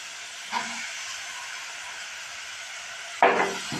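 Pieces of raw jackfruit go into hot oil in a pan, giving a continuous hissing sizzle with two sharper bursts, the second louder as more pieces hit the oil. Nobody speaks.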